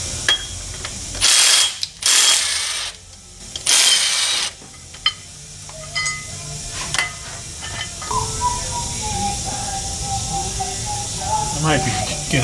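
A ratchet removes bolts on a Tremec TKX transmission in a few short loud bursts of clicking, followed by quieter mechanical clanks and a voice speaking over the background.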